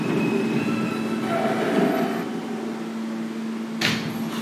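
A Manhattan-bound F Express subway train at 21st Street–Queensbridge station rumbles loudly and steadily with a sustained hum, followed near the end by a sharp burst of hiss like air brakes or doors.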